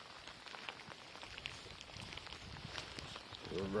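Rain falls on freshly built dirt bike jumps outdoors, a steady close hiss of drops on soil with scattered louder patters, continuous and moderately faint.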